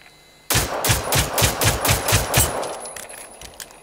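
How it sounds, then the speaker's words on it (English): Rapid automatic gunfire in the video game Generation Zero, aimed at a relay beacon: a loud, close burst of about eight evenly spaced shots lasting two seconds, then a fading tail and a soft click. "Try shooting it, see what happens."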